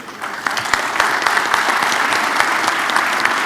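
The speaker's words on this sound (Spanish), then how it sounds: "Despedimos a este panel con un fuerte aplauso." Audience at a national public-security forum giving a panel a strong round of applause, dense continuous clapping from a sizeable crowd, loud and sustained throughout.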